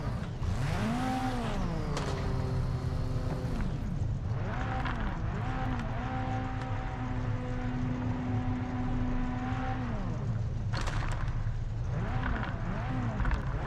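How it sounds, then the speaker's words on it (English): Race-car engines in the sim racing game Project Motor Racing rev up and fall away through repeated gear shifts, with a few sharp backfire pops breaking through the loud, continuous engine drone. "I hear some of these cars backfiring"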